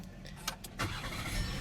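Push-button start of a 2018 Volkswagen Atlas 3.6-liter V6: a short crank catches and swells into a steady, moderately loud rumble within about two seconds.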